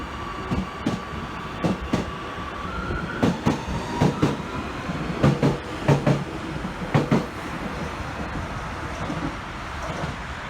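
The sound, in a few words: metro train at station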